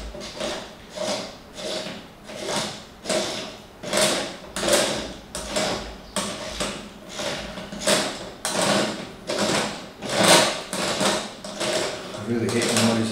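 A Celestron off-axis guider and adapter assembly on an Edge 11 telescope is unscrewed in repeated strokes, each giving a rasping metallic squeak in a steady rhythm, close and fairly loud.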